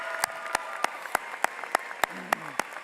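Scattered, sparse claps at a high school commencement ceremony in a large hall, faint and spaced out over a quiet background hum.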